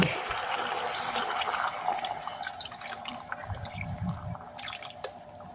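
Water runs steadily into a cooking pot of stone fish bagaong stew, a continuous splashing pour with some clatter, fairly close, in a home kitchen.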